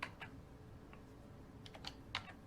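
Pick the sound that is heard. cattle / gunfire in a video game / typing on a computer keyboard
typing on a computer keyboard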